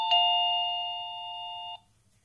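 A ZemiSmart wireless battery-free doorbell chime rings once, a clear sustained two-tone electronic ding that holds for under two seconds and then cuts off, heard alone in a quiet room.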